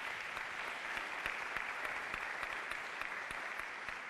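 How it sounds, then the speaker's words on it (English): Crowd applause at a town hall event, a steady wash of many hands clapping at moderate volume, continuing evenly throughout with no voices over it. "Give them all a round of applause."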